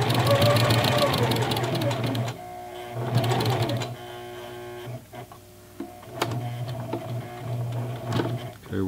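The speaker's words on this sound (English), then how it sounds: "we're sewing over the first couple of stitches and then we're going to back stitch to lock it in" A Singer Heavy Duty sewing machine stitches through jeans, its fast mechanical chatter running in bursts with brief pauses as it sews forward and back-stitches, close and steady.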